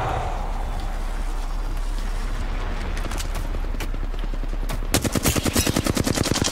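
Rapid automatic gunfire in the shooter game Apex Legends, beginning abruptly after a stretch of quieter game ambience and then rattling in a fast, loud, evenly spaced burst of shots close up.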